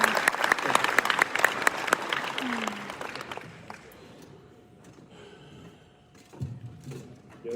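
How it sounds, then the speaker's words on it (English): A round of audience applause at a business forum, loud crisp clapping for about three seconds that thins out and fades, leaving quiet room noise and a few scattered sounds. "let's give her another round of applause"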